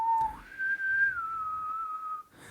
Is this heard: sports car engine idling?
no